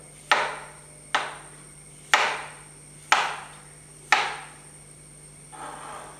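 Knife chopping dragon fruit into small pieces on a board, five sharp separate chops about a second apart, then a softer sixth cut, close and clear with no talking.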